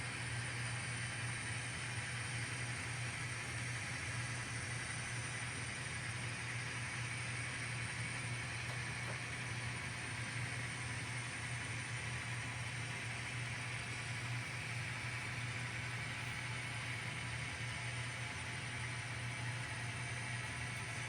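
A steady, continuous rolling hum of an N scale model freight train running along a track, even and unbroken throughout, with no voices.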